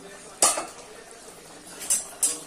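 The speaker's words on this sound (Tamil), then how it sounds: "பாருங்கள், அடி பிடிக்காம நம்ம கிளறணும்." Chicken biryani stirred in a pot with a metal spoon gives three sharp scraping clinks, one early and two close together near the end, over a faint steady background with no voices.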